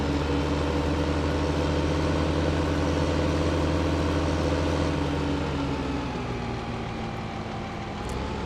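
Tractor engine in Farming Simulator 15 droning continuously and loudly as it drives with a plow on the Westbridge Hills map, a steady low hum that eases slightly near the end, with no talk.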